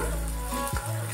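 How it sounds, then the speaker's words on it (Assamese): Onion, garlic, chilli and potato sizzle steadily in a pan, a continuous loud frying hiss with a brief stir or scrape partway through. "এতিয়া ভাজি আছোঁ"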